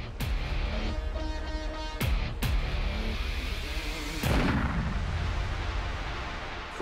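Captain Cook's gun goes off at close range during a standoff with a Hawaiian crowd, heard as several sharp, loud bangs over a steady background, the last followed by a long, fading rumble.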